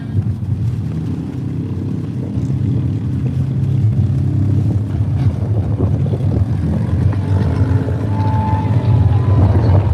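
A side-by-side UTV races through mud at the Hay Days event, its engine a loud, steady roar that holds for the whole stretch with no talk over it.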